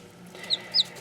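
Ayam Cemani hens on a farm giving two short, bright clucks about a quarter second apart over a quiet, low background hum.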